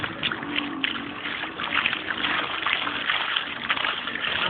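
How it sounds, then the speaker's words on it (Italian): A small fountain run by a solar panel under one metre in size splashes and burbles continuously, close and fairly loud, with faint voices in the background. "Ecco come può funzionare una fontana con un pannello solare di neanche 1 metro"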